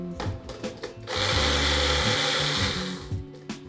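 A blender pulses through beet salad vinaigrette ingredients, a loud steady whir running for about two seconds after a few shorter bumps and clatters, then winding down.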